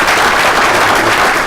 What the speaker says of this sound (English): please, a round of applause for his military service.